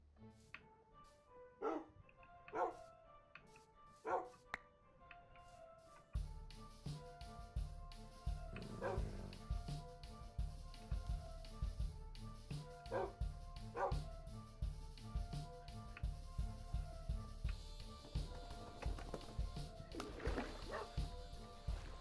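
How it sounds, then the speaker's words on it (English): Wolves in a video game bark and yip in several sharp, separate calls, then give way to steady, busy game sound with repeated yips and barks over it. "Hi wolfies."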